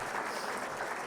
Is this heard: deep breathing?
no